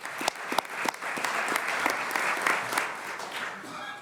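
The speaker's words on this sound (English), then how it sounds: "That deserves an applause." A crowd at the 2025 New York State Court of Appeals State of the Judiciary address breaks into a burst of clapping, many hands at once, sustained and fairly loud for a few seconds.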